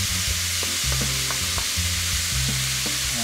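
Ground beef and corn sauté in a hot pan, a steady close sizzle and frying hiss running throughout with irregular scraping stirs of a utensil.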